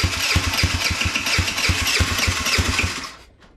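A custom-built motorcycle engine fires up for the first time and runs loud and close with a steady, lumpy pulsing beat for about three seconds before shutting off and fading to silence.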